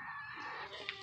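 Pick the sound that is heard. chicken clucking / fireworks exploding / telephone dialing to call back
chicken clucking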